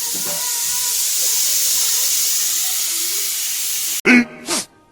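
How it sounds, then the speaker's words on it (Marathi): A pressure cooker on a home stove in a village kitchen, cooking a spicy sevla vegetable curry, gives off a steady, loud hiss of escaping steam that stops abruptly near the end, followed by brief clatter. "तर कुकरची सुट्टी वाजायची सुरुवात झाली"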